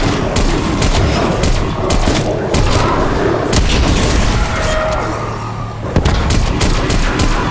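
Gunfire from an AK rifle in Call of Duty Black Ops Cold War Zombies crackles in dense, loud, continuous bursts with booming impacts throughout, amid heavy game action with no clear talk.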